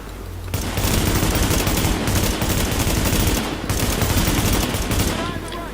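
Loud automatic gunfire rattles from a weapon in the video game The Division, in rapid sustained bursts with a brief pause partway through.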